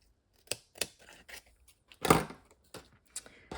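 Foam dimensional adhesive squares for card making are snipped apart in a run of short, crisp cuts with uneven gaps between them, close and fairly quiet, with no talking over them.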